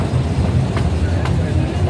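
A safari toy train at Nehru Zoological Park in Hyderabad rumbles steadily as it rides along, a loud continuous low rolling drone with faint clicks throughout.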